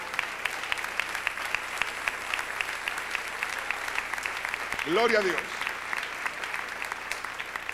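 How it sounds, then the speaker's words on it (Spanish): Continuous applause from a Spanish-speaking church congregation during a sermon, fairly distant and even, with a voice briefly calling out partway through. "Dale un aplauso al Rey"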